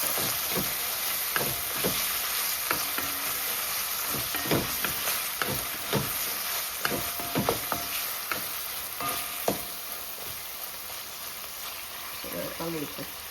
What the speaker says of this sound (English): So we want to fry it up.